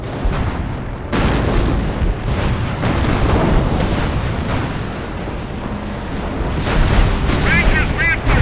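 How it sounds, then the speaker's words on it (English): Artillery shells land on German troops in the Company of Heroes video game, a dense stretch of booming blasts and rumbling impacts that rolls on continuously, with a voice commenting over the battle noise. "they're already getting hit by that artillery"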